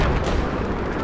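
Shotgun fire in Battlefield 4 on the Dragon Valley map, a loud, dense burst of blast and rumble filling the whole moment, heavy and close with no pause.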